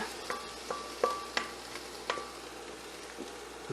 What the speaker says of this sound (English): we're going to take all of our beautiful peppers and onions and get them in the pot